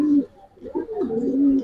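Close cooing from racer pigeons, a rising and falling throaty call repeated a few times, with a person speaking faintly alongside.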